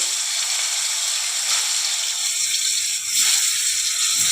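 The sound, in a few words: raw mango pieces frying in a pan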